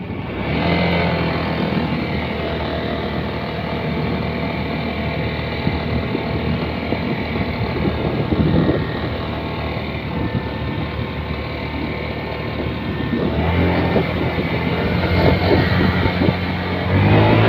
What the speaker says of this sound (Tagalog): testingin natin yung performance ng motor na to.